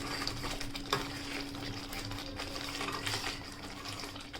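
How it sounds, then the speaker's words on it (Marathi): Kasuri methi is stirred into a wet cashew vegetable dish, giving a soft, faint sizzle with gentle scraping and a light clink of a spoon, quiet and close throughout. "कसुरी मेथी सुद्धा आपण आता मिठासोबतच मिक्स करून घेऊयात"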